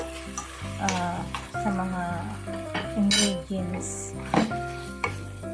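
Filling for homemade siopao, seasoned with pepper and salt, is stir-fried in a pan with an ongoing sizzle, irregular clinks and scrapes of a utensil against metal, and brief talk in the background.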